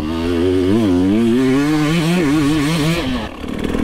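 An enduro motorcycle fitted with a Coober ECU is ridden close by, its engine revving up and down in quick wavering pulls, loud and raspy, then cutting off sharply near the end; no talking.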